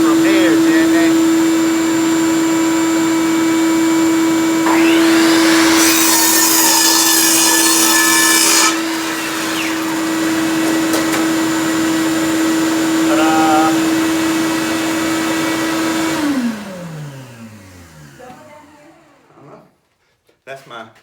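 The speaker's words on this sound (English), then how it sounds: "first, I turn on my vacuum system" A DIY workshop vacuum dust extraction system runs loud and steady with a constant hum, joined midway by a brief harsher burst, then winds down with a falling tone before a few knocks at the end.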